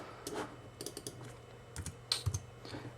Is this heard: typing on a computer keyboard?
yes